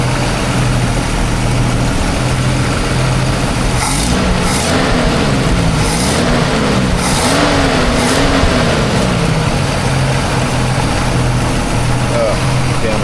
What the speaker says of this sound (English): I basically have to like run the car at idle.